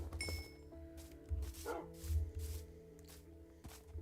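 A dog barks in the Minecraft video game, a few soft game-style yips spread over a quiet background of low music and ambient tones.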